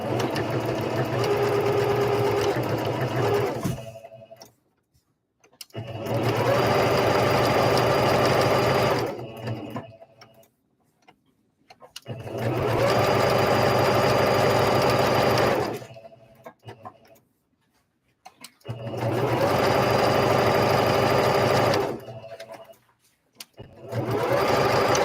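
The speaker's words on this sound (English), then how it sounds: "I'm just currently sewing out each individual piece by themselves" A sewing machine stitching doll base pieces runs in four long, steady, whirring bursts with short pauses between them, close and even, with voices talking during the quieter gaps.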